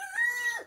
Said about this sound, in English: Roosters, many people don't like roosters because they make noise